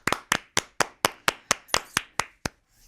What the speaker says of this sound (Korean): 박수 한번 치고 싶어요.